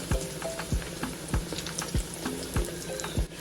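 Meatballs and other pieces for a Guinean meatball stew frying in hot oil, a continuous loud sizzle broken by regular clicking taps of a utensil against the pan.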